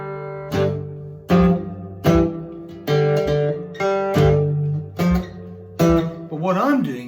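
Cigar box guitar strummed in a plain, even four-beat count: a run of about eight evenly spaced chord strums, each ringing briefly before the next, close and clear with no talking.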